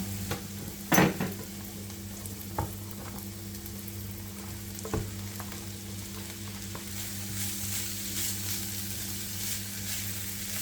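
Food for red lentil soup sizzles steadily in a hot pan, with a few sharp clinks of a utensil against the pan early on. No one speaks.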